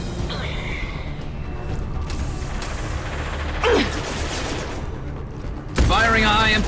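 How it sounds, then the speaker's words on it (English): High-impact gunshots ring out in the video game Mass Effect 2, with sharp loud bursts amid ongoing battle noise, including a strong shot near the end. "Firing a high-impact shot."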